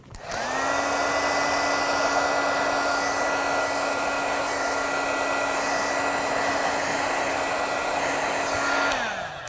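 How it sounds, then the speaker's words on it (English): A Wagner heat gun blows steadily, removing FriXion pen ink with heat. Its fan rises to a loud, even whine and roar that holds for about nine seconds before spinning down. "this with a heat gun"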